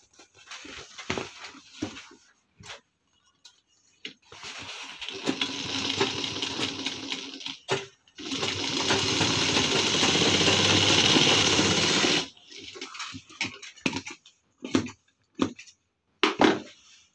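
An electric sewing machine stitches a reusable shopping bag in bursts of rapid mechanical whirring, two long runs of several seconds each, with handling clicks and short starts between them, close and fairly loud.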